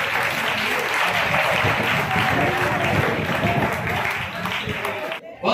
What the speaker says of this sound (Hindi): तालियां बजाने में कंजूसी नहीं।